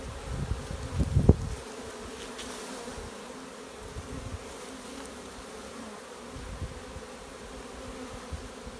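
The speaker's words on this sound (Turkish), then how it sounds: "içeri gitmeye devam ediyor arı" Honeybees buzzing at the entrance of a metal hive in sunshine, a steady close insect drone that runs throughout, with a brief louder burst near the start.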